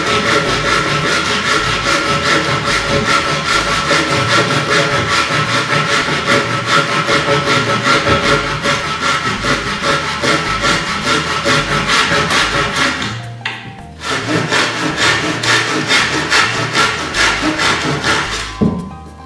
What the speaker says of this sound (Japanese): まず最初はこのノコギリでね、